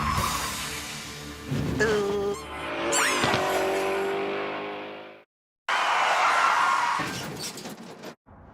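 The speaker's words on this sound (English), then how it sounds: "Canada's worst drivers learn how to do a 180-degree spin out" A car on a driving course is thrown into a 180-degree handbrake spin, its tires squealing in rising, wavering shrieks over engine noise, followed by a brief gap and then a second rough skid.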